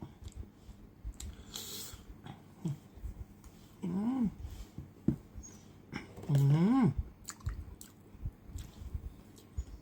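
Someone eats fresh milk coconut cake close to the mic, with soft wet chewing and squishing and a couple of hummed murmurs between bites.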